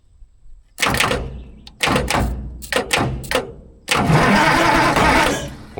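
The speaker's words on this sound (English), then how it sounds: "It's trying to spin the engine over, but it seems like it's not real happy about it." Allis Chalmers 645B loader diesel engine cranking over on a jump pack, laboring in several separate bursts with pauses between, then a longer loud sustained stretch as it keeps turning.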